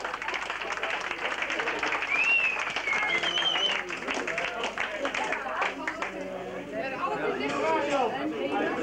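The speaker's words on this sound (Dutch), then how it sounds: "Mag ik hiervoor een hartelijk applaus?" Applause from the audience at a prize ceremony, steady clapping mixed with crowd chatter and a voice speaking over it at moderate distance.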